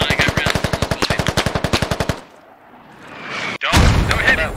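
Rapid automatic gunfire in the military shooter Squad, about twenty evenly spaced loud shots in a fast burst that cuts off, followed by a quiet lull and then another sharp blast with heavy rumbling noise.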